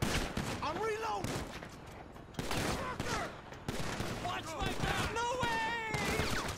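Rapid bursts of video game gunfire from a cops-themed shooter crackle through dense, steady noise, overlapped by excited voices talking and shouting throughout.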